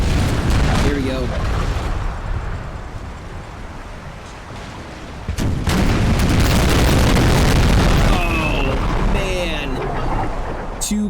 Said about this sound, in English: Two close volleys, one after the other.